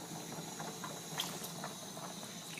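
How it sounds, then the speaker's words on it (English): Noodles dropped into a pot of boiling Jamaican fish tea soup, with a soft steady bubbling and a few light splashes at moderate distance. "let's add the noodles."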